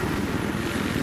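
Helicopter from the Battlefield 3 video game, a steady loud rotor and engine drone with rhythmic low thumping that continues unbroken, with no voices over it.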